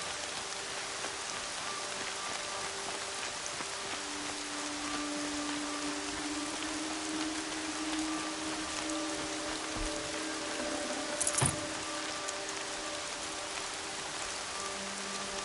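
Steady rain falling in a PS4 video game, a continuous even hiss of drops on surfaces at moderate level, with a brief sharper burst partway through and no talking.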